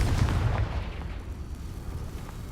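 A Confringo fire spell explosion in Hogwarts Legacy, a short, deep boom that hits at once and dies away into a low rumble within about two seconds, with no talk.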